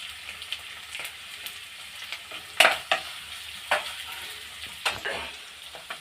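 Chopped tomato fries with salt in a pan for urad dal chutney, giving a continuous close sizzle with irregular stirring scrapes and light clinks from the spoon.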